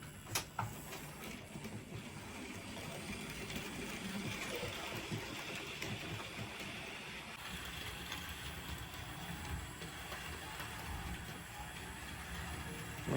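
A Hornby Smokey Joe 0-4-0 model locomotive hauling two milk wagons and a brake van on its track, straining at low speed: a faint, continuous mechanical whirr and rattle that carries on evenly throughout.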